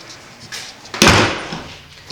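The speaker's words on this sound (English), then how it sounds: "The door works." A door in a 100-year-old bathroom from a 1920 house swings shut with a soft creak and then a solid, close thump that trails off into quiet.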